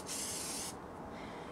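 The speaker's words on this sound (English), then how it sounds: "So I basically just do 1 light spray, and I'm gonna do it over here and spray it." A single light spray of hair product onto a custom-made wig, a bright close hiss lasting under a second before fading into quiet room tone.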